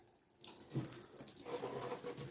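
Water running through a household water filter as it fills during flushing after a cartridge change, a steady close rush of flowing water that starts abruptly and continues without speech.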